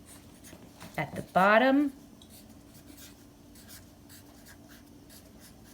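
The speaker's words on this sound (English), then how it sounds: "This is an excellent marker. It's not drying out on me. And I'm going to write my name" A marker writing a name on paper, a few short squeaky strokes close to the microphone, one sharp rising squeal standing out, with a brief spoken remark nearby.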